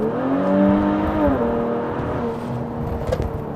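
A Kia Stinger GT accelerates hard to pass another car, its engine note rising steadily and staying loud and close from inside the cabin, with a brief dip as it shifts.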